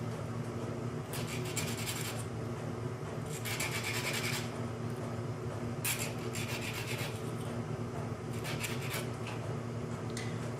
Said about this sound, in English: take our file, and we'll just smooth this off a little bit.